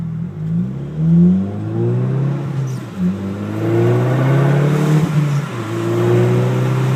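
A car with a muffler-delete custom exhaust revs hard and close, its loud droning engine note climbing and dipping through several throttle blips with no pause.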